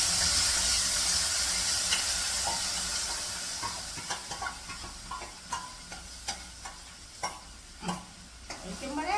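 Hot tempered mustard seeds poured into garlic pickle give a loud steady sizzle that fades over several seconds, followed by scattered spoon clinks and stirring scrapes.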